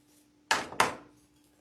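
Cutters snip through wreath material for a Cheshire Cat wreath, giving two sharp, close clicks in quick succession against near silence.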